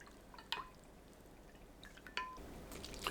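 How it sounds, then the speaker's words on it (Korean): A marinade of plum syrup, vinegar, soy sauce and water is poured over lettuce, heard as faint, close drips and small splashes of liquid. "상추 위에 골고루 부어줍니다."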